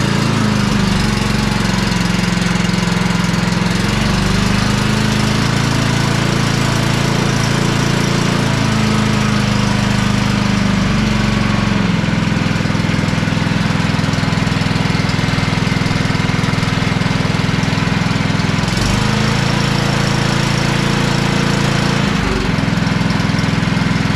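A Cub Cadet XT1 Enduro LT42 lawn tractor with a 547cc Powermore engine with electronic throttle runs continuously up close, a loud steady mower drone with slight pitch dips and a couple of brief knocks.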